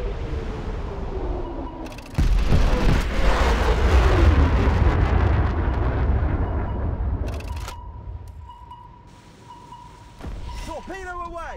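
Torpedo launches and battle effects from the HMS Valiant in War Thunder Mobile, a loud rushing burst and a long roaring swell, then quieter engine hum and a second burst near the end, with game voice callouts over it.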